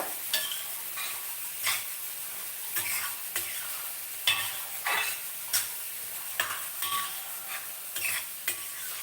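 Broad beans for a tomato curry fry in a pan without oil, with soft sizzling broken by repeated stirring scrapes at an irregular rhythm, close and fairly quiet.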